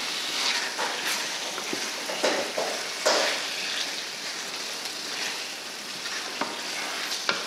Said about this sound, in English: I will just let everything simmer nicely for a minute